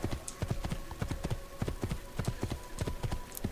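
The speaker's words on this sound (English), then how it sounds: "Why is there a horse just standing here?" Horse hooves clip-clop in a steady walking rhythm in the Assassin's Creed 2 video game, crisp regular strikes up close over a faint ambient hum.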